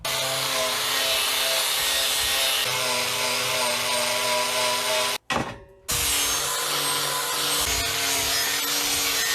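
A loud, continuous grinding and rasping of an angle grinder with a coral disc stripping paint, scale and rust from metal, broken by one short pause, then resuming at the same steady pitch.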